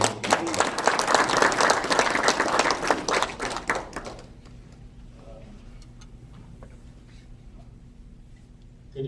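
An audience at a regional economics seminar and expert talk show breaks into applause for about four seconds, individual claps audible within the crowd, then it stops abruptly, leaving a quiet room with a faint hum and scattered small noises.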